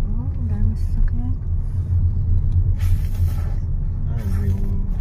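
Many vehicles pass along a mountain road, a steady loud engine rumble with swells of passing traffic, while people talk over it.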